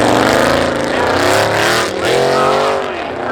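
A 1992 Chevy Corvette launches in a spectator drag race at Seekonk Speedway. Its engine roars loud and close with a rising, strained tone that dips briefly, then climbs again.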